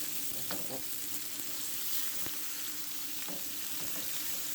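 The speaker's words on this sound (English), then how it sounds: "we'll add our seasoned pork chops" Seasoned pork chops sizzle in a hot pan, a soft continuous hiss of frying with faint crackles and a few small pops, no one talking.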